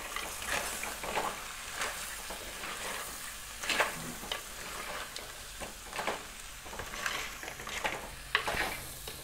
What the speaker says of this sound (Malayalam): ഇനി ഇതൊന്ന് ഇളക്കിയെടുക്കണം.